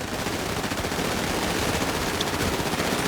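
Dense, continuous automatic gunfire from a Grand Theft Auto V team match, rapid bursts blending into a steady loud rattle with no voices over it.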